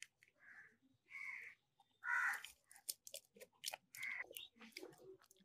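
Close-up chewing of Wrigley's Eclipse spearmint gum: moist, smacking mouth sounds in uneven bursts separated by short silences, with no talking.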